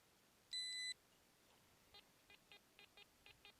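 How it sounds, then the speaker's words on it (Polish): A Quest X10 metal detector gives a long steady electronic tone, then a run of short repeated beeps over aluminium on a forest road, clear and close with no talking. "Kolejny sygnał na aluminium."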